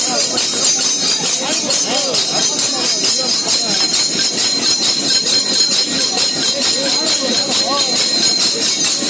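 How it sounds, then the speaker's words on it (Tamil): The Vande Bharat Express arrives at Bengaluru Cantonment station on its first run, amid a celebration. A loud, continuous rumble of rolling wheels carries squeals and a high hiss throughout. "வந்தே பாரத் எக்ஸ்பிரஸ் பெங்களூர் கண்டோன்மெண்ட் ரயில் நிலையத்திற்கு முதல் முறையாக வந்திருக்கிறது"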